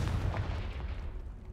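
A Confringo fire spell in Hogwarts Legacy bursts with a low, rumbling boom that stays loud and dense through the whole moment, with no voice over it.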